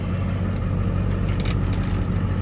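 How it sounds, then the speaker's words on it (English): A 2001 GMC Sierra 3500 4WD dually's 6.6L Duramax diesel idles, giving a steady, loud, low rumble close by with no voices. "It idles smooth."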